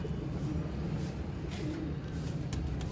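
Colored pigeons cooing softly under a steady outdoor noise bed, with low murmuring coos repeating through the short stretch and no speech over them.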